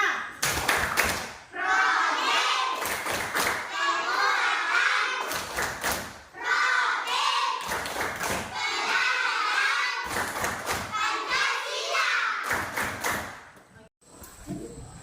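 Primary school children at SDN 11 Panai Hilir clap a rhythmic P5 chant, with loud patterned claps and thumps alternating with chanted voices across several repeated phrases.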